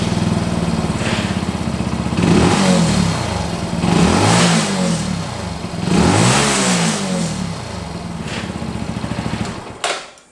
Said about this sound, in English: we're gonna give you guys a sample of what the stock exhaust sounds like on the Benelli